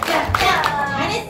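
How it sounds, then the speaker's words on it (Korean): Children clap their hands in time to a beat during a Pororo theme park sing-along show, a quick run of even claps mixed with kids' voices and music. "이번에는 박수를 박자에 맞춰서"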